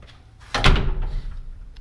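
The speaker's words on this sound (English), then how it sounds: "Then of course we have the door. I hung the door myself." A newly hung interior door in a drywalled room under construction, heard as a single close, fairly loud thump with a brief rattle as it opens or shuts.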